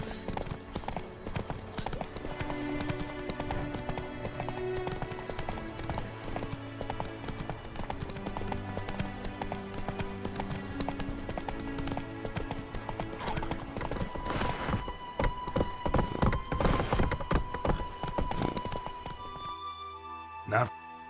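Roach the horse galloping in The Witcher 3, rapid rhythmic hoofbeats under music and game sounds with characters talking, ending in a brief whinny.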